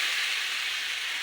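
Chopped tomatoes hit a hot, spiced pan, giving a loud, even, continuous sizzling hiss that stays steady throughout.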